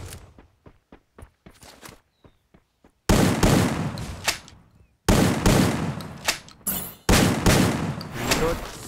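Rapid gunfire from an MP5 and a shotgun in the Free Fire mobile battle game: a few sparse shots open, then three loud sustained bursts of dense firing follow with short breaks between them.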